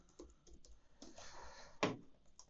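Admin password typed on a computer keyboard at a router login page, a run of soft, close key taps in an uneven rhythm ending in one louder keystroke, with no talk.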